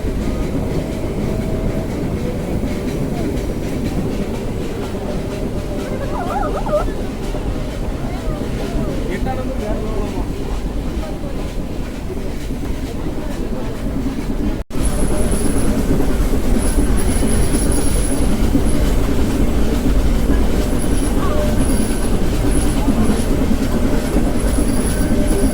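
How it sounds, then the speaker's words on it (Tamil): An Ooty toy train runs with its engine at the back pushing the carriages, producing a loud, continuous rolling rumble with wheel clatter that grows louder halfway through, while voices faintly mix in. "இந்த மாதிரி ட்ரெயினில் பேக்கில் இன்ஜின் வச்சு அப்படியே முன்னாடி தள்ளிட்டு போகுது."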